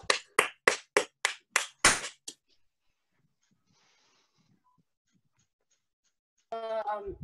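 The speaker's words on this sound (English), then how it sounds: "can everybody clap for Team Sitaram?" Students in a classroom clap for a presentation team: about seven sharp, evenly spaced claps in the first two seconds, then near silence before a voice begins speaking at the end.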